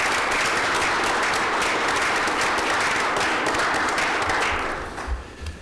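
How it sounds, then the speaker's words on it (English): A room of attendees at a county public safety committee meeting claps for a group, the applause loud and sustained before thinning and tapering off near the end. "let's just give them a round of applause for what they have done."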